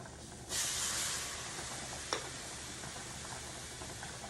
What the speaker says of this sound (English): I'm just going to ladle it in its nice warm milk